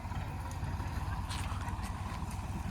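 A tractor engine's steady, chugging rumble runs throughout in a field, close and constant, with some wind noise over it.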